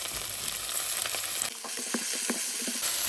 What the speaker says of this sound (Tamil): இப்போ இந்த வாழைப்பூவையும் போட்டு வதக்கும்.